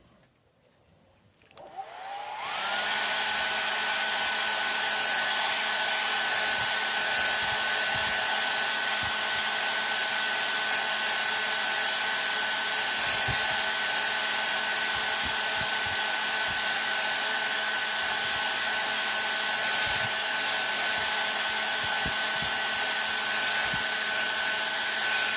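Hair dryer running steadily at close range while drying paint on a wooden Valentine's Day sign, a loud continuous blowing whir that starts after a short quiet moment and holds unbroken to the end.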